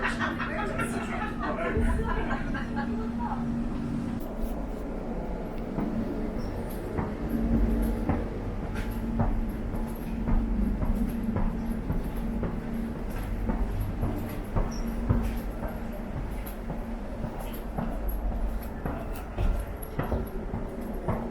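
A London Overground train on the new line to Barking Riverside rumbles steadily along the track with a continuous low drone, joined by clicks and knocks from the wheels, while passengers chatter quietly in the carriage.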